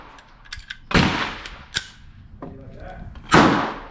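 Sharp 22LR gunshots from a rifle fitted with a CMMG conversion kit firing Winchester white box ammo, several cracks spaced irregularly with two louder close shots, with brief talk between them.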